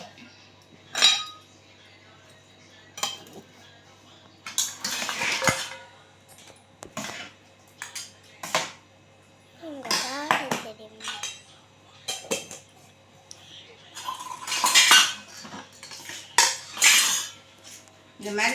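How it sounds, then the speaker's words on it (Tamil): Packing a tiffin lunch box with curd rice and cauliflower pakoda, a series of close metallic clinks, clatters and scrapes of utensils, lids and containers in irregular bursts, with brief quiet gaps between. "இப்போ டிஃபன் பாக்ஸ் கட்டுவோம்."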